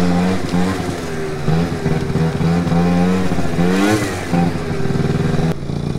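MBK Booster scooter engine revving hard during wheelies, a steady buzzing two-stroke drone with rising and falling pitch sweeps, loud and close, continuous for the whole stretch before cutting off near the end.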